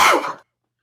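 A single short, loud sneeze burst close by, breathy and sharp, dying away within half a second into silence.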